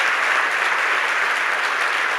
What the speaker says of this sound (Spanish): Creo que podemos darle un aplauso más fuerte al Señor.